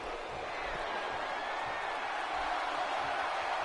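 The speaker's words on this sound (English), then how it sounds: "And this crowd reacting to Hector" A wrestling crowd at a live show roars in a steady, dense wash of noise that stays loud and continuous throughout.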